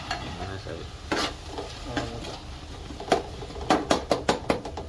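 Ginger and garlic sautéing in a pan for prawn gravy: steady soft sizzle under repeated stirring, with sharper scraping strokes growing louder toward the end, close and without voices.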